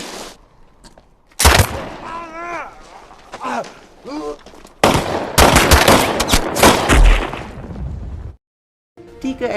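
Gunshots as deserters are executed in a film, several sharp cracks and bursts of rapid fire mixed with shouting voices and a dramatic score, loud and close.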